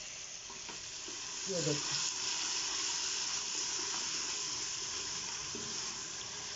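Onions frying in a pan with a little salt, cooking toward a light golden colour for mash ki daal, give a steady close sizzle and hiss with a few stirring scrapes, under a brief spoken remark.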